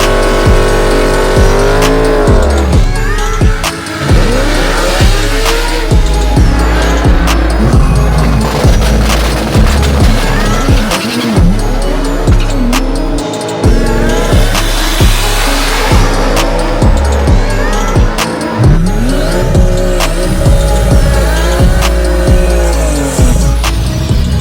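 Chevrolet Corvette C8 Z06 fitted with an Eventuri air intake and Soler Performance throttle body on a drag strip, its engine roaring loud and close, revving in repeated surges with shifting pitch sweeps.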